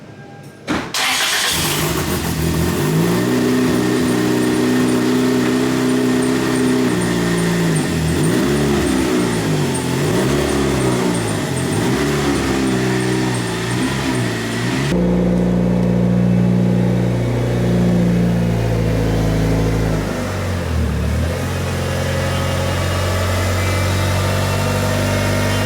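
A Mitsubishi Evo 9 MR starts up and idles, then revs and pulls into a garage, its engine loud and close for the whole stretch, with no voices.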